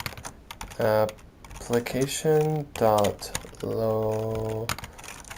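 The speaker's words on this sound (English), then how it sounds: "what we're going to do is type in here" Quick taps on a computer keyboard come in short bursts between stretches of someone speaking, and his voice dominates over the soft clicks.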